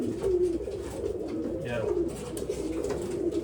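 Pigeons of an old line breed at a sale in Bangalore coo steadily in low, rolling calls, several birds close by with overlapping coos and faint background bustle.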